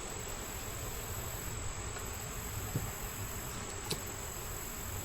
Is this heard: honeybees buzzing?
yes